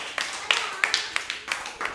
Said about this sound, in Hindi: अब इसकी तालियां बजा